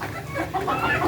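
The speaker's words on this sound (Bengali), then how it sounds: "এই যে দেখুন এখানে মুরগি উঠে বসে আছে" Farm chickens cluck in a busy poultry shed, a steady overlapping chorus of close, moderately loud calls that runs through the whole moment.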